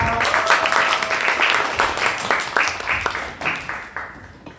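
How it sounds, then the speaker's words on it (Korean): An audience at a talk concert about the National Security Act in Jinju applauds to welcome the host organization's chairman, a moderate crowd clapping that swells early then tapers off in scattered claps. "박수로 환영해주세요"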